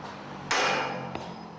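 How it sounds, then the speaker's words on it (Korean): A hammer striking to knock out the connecting pins of a tower crane jib on a construction site, one loud ringing metal blow followed by a smaller knock, close, over a steady background hum. "지부 연결핀을 해체하는 망치 소리도 경쾌하다."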